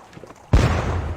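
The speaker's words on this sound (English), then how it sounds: "Oh, gunfire." Musket gunfire erupts in the Napoleonic strategy game Campaign Waterloo, a sudden loud volley after a quiet lead-in that rolls out into a lingering, crackling rumble.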